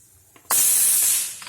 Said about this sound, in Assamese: মাছখিনি ভাজি ল'ম মই।